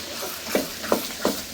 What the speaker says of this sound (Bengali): একবারে জিরা টিরা দিয়ে মশলা কষিয়ে তারপর মাংস দিলাম